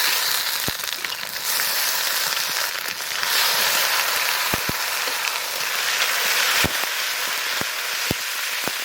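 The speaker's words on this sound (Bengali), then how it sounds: "পেঁয়াজটা সুন্দর লাল লাল ভাজা হয়ে গেছে এখন দিয়ে দেবো আদা রসুন কাঁচা লঙ্কা জিরা গরম মশলা শুকনো লঙ্কা বাটা" Onions fried until reddish-brown sizzle in oil with ginger, garlic, green chilli, cumin, garam masala and dried red chilli paste: a steady, dense crackle with occasional sharp clicks and pops, no voices.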